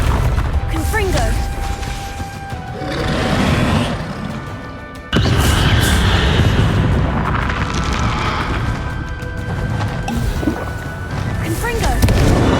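Booming blasts from a Confringo blasting spell in the video game Hogwarts Legacy, loud and dense, with a sharp burst around the midpoint and a continuous rumble of combat effects throughout. A voice shouts over the action.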